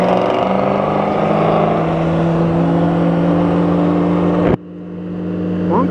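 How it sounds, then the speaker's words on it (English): A Corvette engine with loud exhaust holds a steady, heavy droning rumble, close and loud, that cuts off abruptly, then rises again as the engine picks up revs. "One Corvette."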